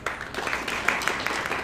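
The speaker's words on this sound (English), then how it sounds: "golf clap" Polite clapping from attendees at a community advisory team meeting, a brief spread of scattered claps from a room of people, fairly light and short-lived.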